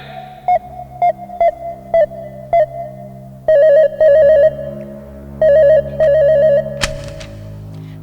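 Telephone ring tones pulse in a steady repeating pattern of short bursts, then longer double rings, as a call is placed to a relative; clear and loud with no talk.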